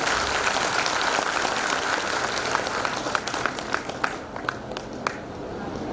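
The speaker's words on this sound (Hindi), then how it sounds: "सब एक बार जोरदार तालियां लगाएंगे।" Audience applause at a stress-relief program in Srinagar Garhwal, Uttarakhand: steady crowd clapping throughout, dense and fairly loud, with a few sharper individual claps standing out toward the end.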